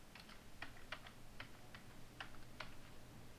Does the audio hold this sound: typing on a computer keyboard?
yes